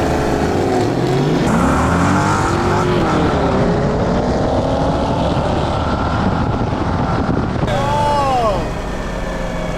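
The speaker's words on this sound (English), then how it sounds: "Why is this not pulling? Spinning the tires though, that's pretty cool." A nitrous-fed Mercedes-Benz spins its tires, its engine droning loud and near with rising and falling pitch sweeps amid wind buffeting, and a short exclamation from a voice near the end.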